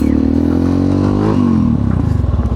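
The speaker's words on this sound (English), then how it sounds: "clutch in, building the RPM and jumping it out." A Yamaha XT660X single-cylinder motorcycle revs hard with the clutch in, the engine pitch climbing, dropping briefly, then pulsing loudly up close as it is launched in gear.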